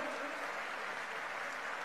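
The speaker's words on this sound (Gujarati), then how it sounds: "ખૂબ તાળીઓના નાદ સાથે સ્વાગત કરીએ છીએ" Applause rises from the crowd welcoming the governor at a foundation-stone ceremony in Gujarat, a steady broadband clatter of clapping that holds evenly through the moment with no voices over it.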